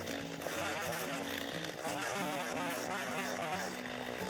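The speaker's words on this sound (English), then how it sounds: "The chainsaw I'm using really isn't sufficient for the job, but it's the only chainsaw I have." A small, underpowered chainsaw cuts into a large maple tree growing close to a house, its engine droning continuously at a steady buzzing pitch with slight load changes, loud and close throughout.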